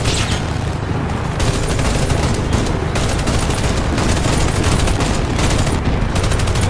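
Video game gunfire rattles continuously, dense bursts of shots and booms layered into a loud, unbroken barrage with no clear pauses.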